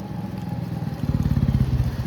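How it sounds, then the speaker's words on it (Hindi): Motorcycle ridden by a learner, its engine putting out a steady low chugging rumble that grows louder and more pulsing halfway through, close by with no talk over it. "देखो सन्नी आ रहा है भाई, खुद बाइक चला के"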